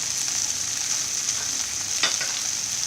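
Okra is stirred with cumin powder and coriander powder in a frying pan, giving a continuous loud sizzle with one sharper scrape of the spatula partway through.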